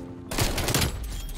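Bullfrog SMG firing in Call of Duty: Black Ops Cold War, a rapid, dense burst of automatic gunfire that starts abruptly and rattles on loudly to the end.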